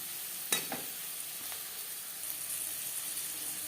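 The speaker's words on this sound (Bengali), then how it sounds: "পেঁয়াজ অবশ্যই লালচে করে ভেজে নেবেন" Onions frying in a pan until reddish, a steady soft hiss of sizzling oil, close and continuous, with a couple of brief stirring clinks near the start and no voices.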